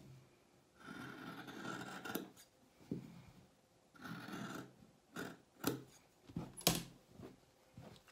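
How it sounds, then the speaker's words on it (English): Sharp fabric shears cutting through four layers of fabric for a lunch bag, soft rasping snips in short bursts, close and quiet, with a few sharper clicks between cuts. "Now bring your sharp fabric shears and cut through all 4 layers, cutting along the line only"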